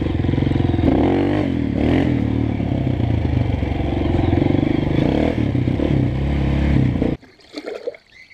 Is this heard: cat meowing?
no